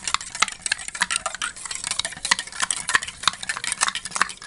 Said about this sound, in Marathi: हे 1 मिनिट असं कंटिन्युअस ढवळत राहायचं आहे.